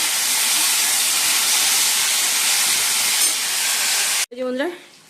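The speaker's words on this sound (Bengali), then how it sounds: "আলুগুলো ভেজে নিচ্ছি, লাল লাল করে ভেজে নিই" Potatoes frying in oil in a home kitchen give a loud, steady sizzling hiss that runs continuously before cutting off abruptly near the end, followed by a brief voice.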